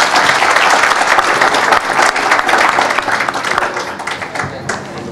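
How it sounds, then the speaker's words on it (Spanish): Audience at a business event breaking into loud, dense applause that sustains for several seconds and gradually fades. "El aplauso."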